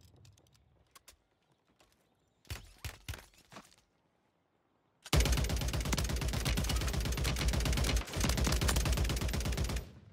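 Gunfire in Call of Duty: Warzone 2 starts as scattered sharp shots and a short burst, then turns into a loud, sustained rapid automatic volley that runs for several seconds with one brief break.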